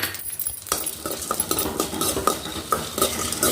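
Black pepper and fennel seeds frying in oil for a spicy tomato kurma, stirred with a metal spoon that clinks and scrapes against the pan in repeated strokes over a light sizzle.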